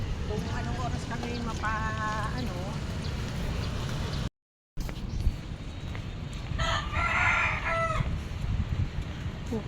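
A rooster crows in a busy outdoor setting near a market in Dasmariñas, its call rising above steady crowd and street noise while people talk nearby.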